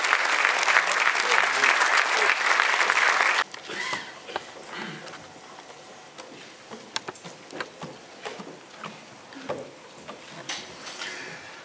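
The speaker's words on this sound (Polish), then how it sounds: "a Państwa raz jeszcze zachęcam do oklasków" A loud burst of audience applause at a cultural awards ceremony stops abruptly after a few seconds, followed by quieter scattered clicks, knocks and shuffling sounds around the stage.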